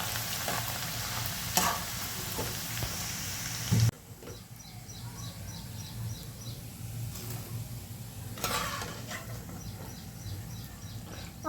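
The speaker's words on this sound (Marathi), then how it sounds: "अशा प्रकारे आपण सगळे तळून घेऊयात मका" Corn frying in hot oil for chivda, a steady crackling sizzle that drops to a softer, quieter bubbling partway through and then flares up again briefly, heard alone with no talk.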